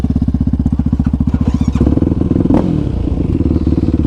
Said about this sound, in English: He's got a LTR 450 throttle on here, so see how that feels.